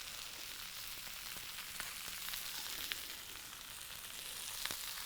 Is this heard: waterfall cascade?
no